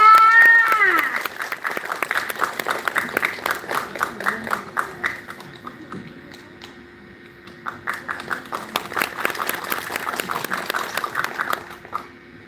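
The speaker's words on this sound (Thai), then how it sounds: "ขอเสียงปรบมือและต้อนรับคุณ นัทการทองประดับ" Applause at an award ceremony for students, scattered crowd clapping in a hall with a sustained tone and announcer voice at the start, the claps continuing unevenly and dipping briefly before picking up again.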